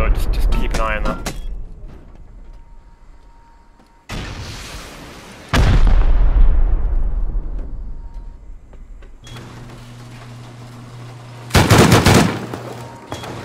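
Rockets and gunfire crack and boom through a video game raid defense, with loud bursts, a long decaying blast and a dense rattling volley, while a player's voice comes and goes underneath.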